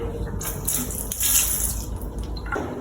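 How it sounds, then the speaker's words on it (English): Water sprays steadily from a handheld bidet spray hose beside the toilet in a bathroom of a Thailand Airbnb room, a continuous hissing rush with some dripping and splashing, close by and alone. "You use this little spray thing."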